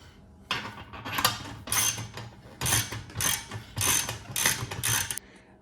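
Ratcheting wrench tightening bolts on the table legs of a JUKI DDL-8700 industrial sewing machine, several bursts of rapid metallic clicking with short pauses between, close and clear without talk.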